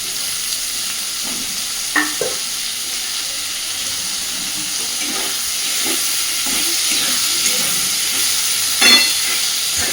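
Potato, onion and tomato fry together in a pan with green chilli, giving a steady, loud sizzle with a constant hiss and a few faint stirring knocks throughout; no speech.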